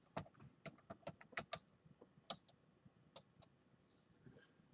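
Fingers type on an old laptop keyboard, giving a quiet, irregular patter of sharp key clicks in short bursts with brief pauses.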